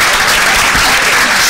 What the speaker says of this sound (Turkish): Onları da bir alkışlayalım.